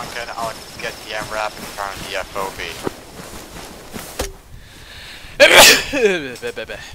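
Someone sneezes once, loudly and close, over voice chat in an Arma 3 military game session, while other voices talk over radio-like chatter and insect chirps sound in the background.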